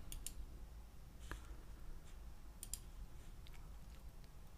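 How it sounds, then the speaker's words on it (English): Computer mouse clicks on a download button, a few sharp, brief taps scattered over quiet background hiss, with no talking. "you can download it by clicking this button"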